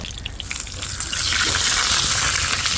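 Hot oil sizzles and crackles steadily as fish fries, a dense hiss that grows slightly louder and continues without talking.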